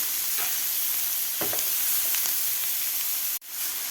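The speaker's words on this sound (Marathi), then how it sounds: "व्यवस्थित अशा मऊ होईपर्यंत आपल्याला हे परतून घ्यायचे आहेत." Mixed vegetables sauté in a pan over a medium gas flame, giving a steady close sizzle with occasional stirring scrapes and a brief sharp clink near the end.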